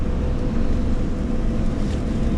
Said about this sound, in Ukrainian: тепер рогато прогулянка, тобто на рогатому їдемо на тролейбусі